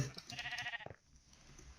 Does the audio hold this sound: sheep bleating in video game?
yes